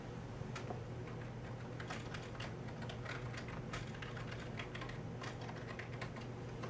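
Keys tapped in quick irregular bursts on a keyboard while entering a search, close and fairly quiet, with no voices over the clatter.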